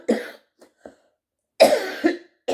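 A woman suffering a persistent cough gives a loud, close cough, then two faint short hacks, then another heavy bout of coughing with a final cough at the end, with no talk.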